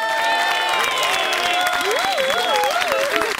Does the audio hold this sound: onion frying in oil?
no